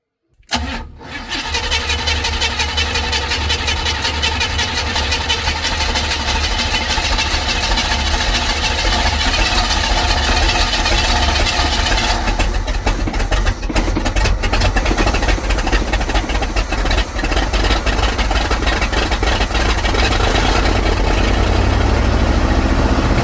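A 1955 Buick Super with a big block engine cranks and catches, then idles loud and close with a rough, steady throb for over twenty seconds, the tone shifting slightly partway through.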